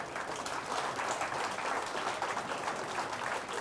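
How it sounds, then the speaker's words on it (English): Sustained applause from an audience at a reception, dense steady clapping at even loudness throughout with no voices standing out. "Please, a round of applause."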